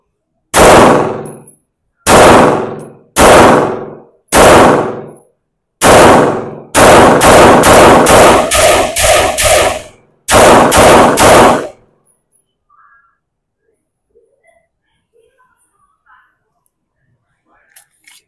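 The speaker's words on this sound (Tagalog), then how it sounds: "Firing." A Springfield Armory SA-35 pistol fires a series of loud, close shots: several single spaced rounds, then a rapid string and a final quick burst, followed by near silence.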